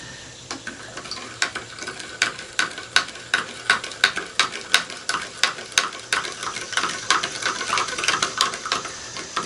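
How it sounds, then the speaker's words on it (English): A spoon stirs venison jerky marinade in a bowl, giving a quick, steady series of sharp clacks and scrapes, loud and close, over about ten seconds with no speech. "give it a good stir"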